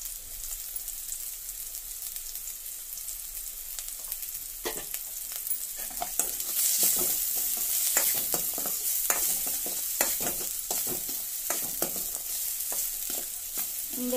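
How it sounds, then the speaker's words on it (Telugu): Chopped onions fry with salt in a pan for mushroom Manchurian, a continuous bright sizzle broken by repeated scraping, clacking stirs that grow busier in the second half, fairly close and with no voices. "ఆనియన్స్ వేసుకున్నాక కొంచెం సాల్ట్ వేసుకుందాం తొందరగా వేగడానికి"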